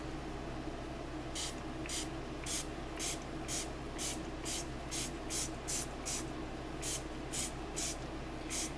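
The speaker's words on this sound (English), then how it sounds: "I am going to spray with water." Water misted from a hand spray bottle during a crafting session: about fourteen quick, hissing squirts in an uneven rhythm, close by, over a steady low room hum.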